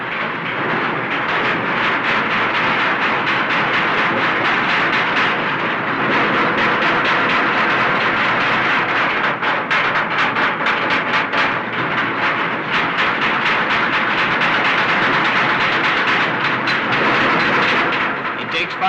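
Riveters hammer rivets into the steel hull of a ship in a 1940s British shipyard, a loud, dense, continuous clatter of metallic blows that goes on for the whole stretch.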